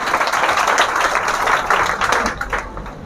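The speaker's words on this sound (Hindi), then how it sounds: "जोरदार ताली लगाइए।" Loud applause from an audience at an Independence Day event in Sultanganj, a dense, continuous burst of clapping close by that holds throughout before easing slightly at the end.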